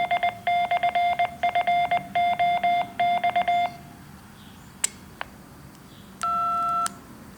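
A ham radio fox hunt transmitter sends the DTMF tone for digit 2, followed by a quick series of clipped dual-tone beeps, a couple of faint clicks and one longer steady tone, all clear and close.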